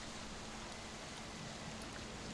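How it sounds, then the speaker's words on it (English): Steady, dense rain hisses without a break, played as ambience during a tabletop role-playing game, faint and even throughout with no voices. "And the rain is just pouring down at this point."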